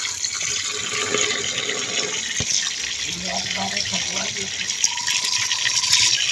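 Running water rinses freshly picked, home-grown matar kalai greens in a village kitchen, a steady splashing wash with small sloshes and clinks, moderately close.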